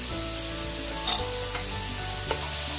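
Beef and broccoli stir-frying in a pan over a high flame, giving a steady, close sizzle with a few sharp spatula clinks and scrapes.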